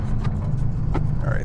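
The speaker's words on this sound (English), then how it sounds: "there's the backfire effect" Supermarine Spitfire piston engine in Microsoft Flight Simulator, a steady loud drone with a few brief crackling pops from backfires over the low rumble, with a voice talking over it.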